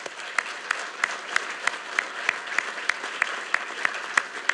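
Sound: applause from graduation audience

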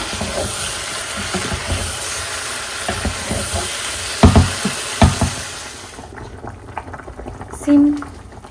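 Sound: sautéing cauliflower and potatoes in a pan

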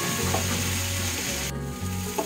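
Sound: pointed gourd and onion frying in pan

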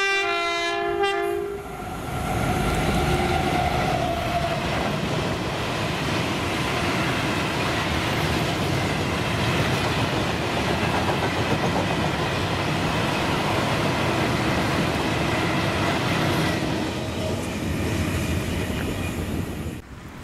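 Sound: engineers train passing at Longniddry station

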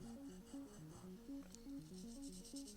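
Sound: sanding a surface

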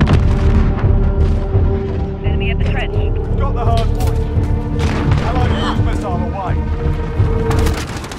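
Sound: cruise missile strike in Call of Duty Modern Warfare video game

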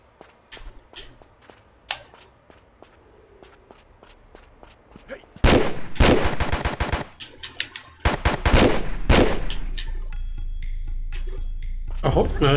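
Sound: gunshots from video game Tomb Raider 3

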